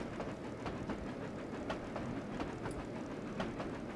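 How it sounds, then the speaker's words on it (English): A freight train rolls past in Trainz Railroad Simulator 2019, a steady low rumble with faint, regular clickety-clack wheel beats. No voices are heard. "There's a freight train right there."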